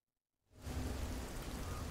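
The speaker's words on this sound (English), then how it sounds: "It's raining." Rain in the woods at night begins abruptly after a moment of silence and continues as a soft, even hiss of falling drops, faint and steady.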